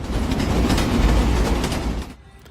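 A train rumbles past close by with a clattering wheel rhythm, loud for two seconds before cutting off abruptly into quiet.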